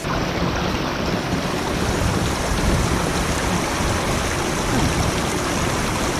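A freezing cold river in Kangpokpi District, Manipur, rushes steadily, a loud, broad, unbroken wash of flowing water close by with no break or pause.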